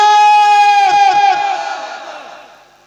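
A large crowd at an Islamic religious sermon roars the takbir response in unison, a loud sustained shout that breaks into scattered voices and fades away over a few seconds.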